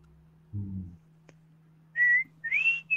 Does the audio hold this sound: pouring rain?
no